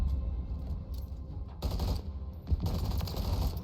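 Bursts of automatic weapon fire in Call of Duty Modern Warfare III ranked play, several quick volleys separated by short gaps over game ambience.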